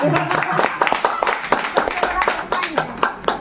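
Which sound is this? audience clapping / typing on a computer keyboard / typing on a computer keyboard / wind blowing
audience clapping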